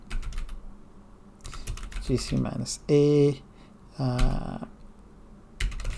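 Clicky bursts of typing on a computer keyboard at a desk while coding, short clusters of keystrokes close to the mic, interrupted by spoken words and a brief hum.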